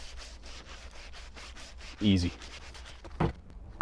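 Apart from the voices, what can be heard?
hand sanding wood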